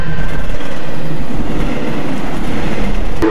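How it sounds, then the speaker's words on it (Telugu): A monster Thomas train in a video game rumbles loudly and steadily throughout, with a dense rolling rail clatter and a brief sharp burst near the end. "అయ్యో అయ్యో ట్రైన్ వచ్చేస్తుంది"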